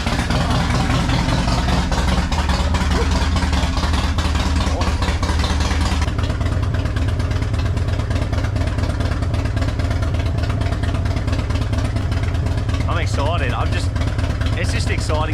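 A Harley-Davidson motorcycle engine runs loud and close inside a garage, its deep steady idle rumbling on after a rougher start, with a brief voice near the end.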